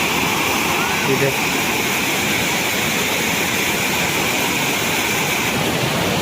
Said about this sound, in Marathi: पूर्ण जे डॅमचं स्लोपपासून वरतून पाणी पडतं खाली